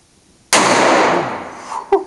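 A single loud revolver shot at a shooting range, a sharp close crack with a long fading ring, followed by a brief click or clatter near the end.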